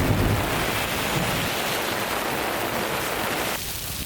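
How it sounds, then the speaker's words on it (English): Heavy rain pouring down outdoors, a dense, loud, continuous hiss of water that dips slightly near the end, with no voices. "it hasn't rained like this in weeks"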